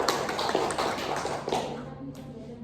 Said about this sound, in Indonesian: beri aplaus dulu buat Miftah